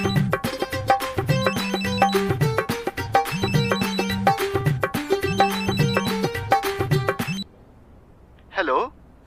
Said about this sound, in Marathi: वहिनी, फोन आलाय तुमचा.